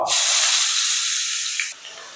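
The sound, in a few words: chopped onions sizzling in reused frying oil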